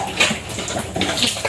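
Water runs weakly from a small garden hose outdoors, a close, continuous splashy wash with scattered clinks and animal movement mixed in.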